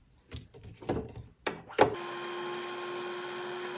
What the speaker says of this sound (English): I've just filled the bobbin up.